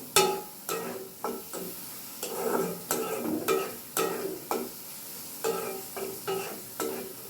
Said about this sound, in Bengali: একটু বাগার দিয়ে নেব সুন্দরভাবে